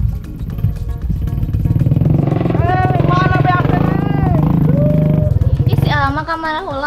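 A stalling motorcycle engine chugs and rumbles up close with a rough, uneven low throb, while people talk and exclaim over it throughout.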